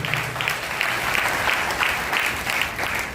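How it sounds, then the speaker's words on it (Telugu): A church congregation at a Good Friday service breaks into loud, sustained applause, a dense wash of clapping filling the room from start to finish. "చప్పట్లు కొట్టండి గట్టిగా."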